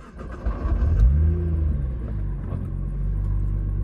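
A stock Nissan GT-R R35 fires up with a loud rise in engine rumble near the one-second mark, then settles into a steady, deep idle with no talking.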